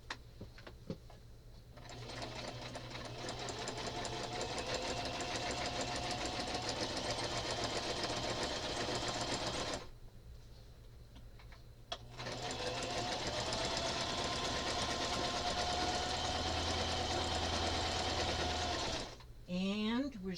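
A sewing machine stitches fabric in two long, steady runs with a brief pause between them, loud and close, with a short break near the end.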